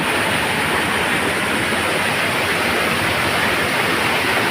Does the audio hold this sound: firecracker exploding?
no